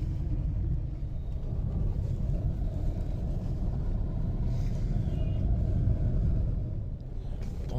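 A Fiat Grande Punto Multijet diesel engine rumbles low and steady close by, a deep continuous drone with a slight surge of turbo boost partway through.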